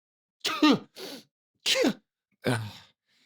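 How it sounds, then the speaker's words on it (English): A series of sneezes, four sharp bursts in a row with brief pauses between them, close and fairly loud with no other sound around. "let out a sneeze"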